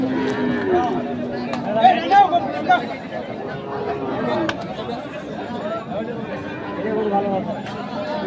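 Cattle mooing in a busy outdoor cattle market before Eid al-Adha, low drawn-out calls rising over steady crowd chatter and nearby voices.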